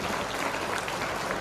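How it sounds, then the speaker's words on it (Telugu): An audience claps together in a dense, continuous burst of applause at a public event in Siddipet, steady and fairly distant with no voices on top. "సార్ గట్టిగా క్లాప్స్ కొట్టండి సార్."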